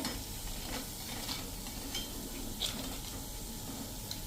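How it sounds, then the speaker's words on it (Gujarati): Puris fry in hot oil, giving a steady, fairly quiet crackling sizzle with occasional small pops and stirring, alone without talk. "હવે આ જ રીતે આપણે બધી પૂરીને ફ્રાય કરી લઈએ"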